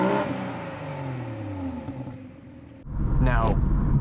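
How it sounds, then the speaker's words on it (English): BMW 440i Gran Coupe engine accelerating through the gears, a raspy exhaust note rising in pitch, dipping at a shift, then a louder surge with faint turbo whoosh, close and under a person's talking. "You can hear a little bit of turbo in between shifts, but really not a whole lot of anything. It's a little bit raspy"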